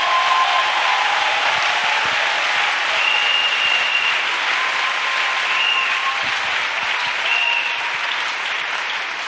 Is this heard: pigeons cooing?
no